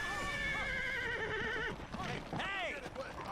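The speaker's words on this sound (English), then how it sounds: "Must be some really fucking weak horses if they're just gonna run off from a kid shouting." A horse in the video game Lost Odyssey lets out a loud, wavering whinny, followed by a second shorter neigh, over busy in-game sounds and character voices.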